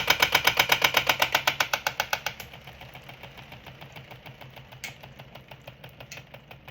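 A spin art table whirling at about 5,000 RPM, giving a loud, fast pulsing mechanical whir in the first two seconds that then settles into a quieter steady hum with a couple of small clicks.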